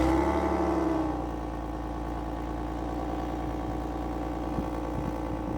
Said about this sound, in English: We're gonna go ahead and get a cold start on the Lotus Emira.